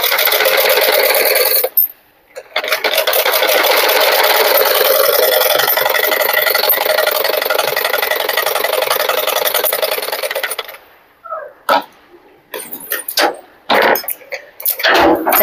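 A sewing machine stitches a blouse in fast, continuous bursts, loud and close, with a brief pause near the start and a longer run that ends in short stop-start bursts.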